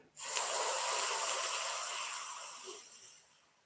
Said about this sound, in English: Keep your breathing pattern of this little hissing breath